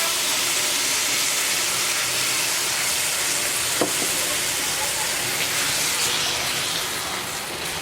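Ingredients lowered into hot oil make a loud, steady, broadband sizzle that hisses on close and unbroken for several seconds, easing off slightly toward the end.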